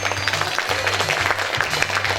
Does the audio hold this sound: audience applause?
yes